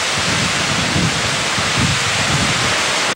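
Typhoon Nina lashes a province in Camarines Sur with heavy rain and gusting wind, making a dense, roaring wash of noise that stays strong and steady before cutting off abruptly at the end.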